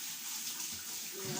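Salmon rinsed under a running tap, a steady close wash of flowing water throughout with a slightly fuller splash near the end.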